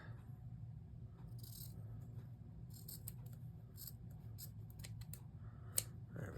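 Scissors snipping through a piece of material while making a needle book: a string of crisp, close cutting strokes in uneven rhythm, a few sharp snips standing out over a quiet low hum, with no talk.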